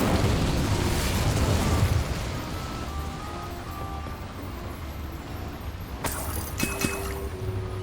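Incendio fire spell in Hogwarts Legacy erupting in a loud burst of roaring flame that fades into a crackling rumble, followed by sharper magical chimes and clanks.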